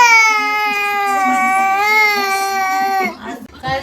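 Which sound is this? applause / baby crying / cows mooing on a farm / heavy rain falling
baby crying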